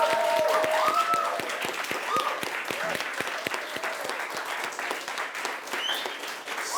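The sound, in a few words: audience applause for the finalists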